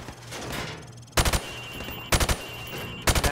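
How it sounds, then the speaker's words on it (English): Rifle fired from the hip at targets on a firing range in Call of Duty Modern Warfare Remastered, three loud rapid bursts of automatic gunfire separated by brief pauses over low game ambience, with no voices. "Now shoot at the targets while firing from the hip."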